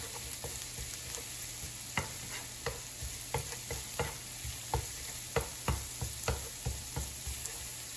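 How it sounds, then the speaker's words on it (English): Four cloves of minced garlic sizzle in butter in a pan, with a soft steady hiss broken by a series of sharp clicks and taps from stirring with a utensil, quiet and close with no talking. "4 cloves of minced garlic. And just cook it in butter for about 10 seconds or so."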